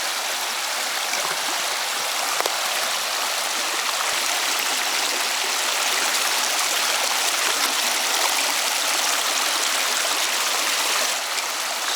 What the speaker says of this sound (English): Fording the river.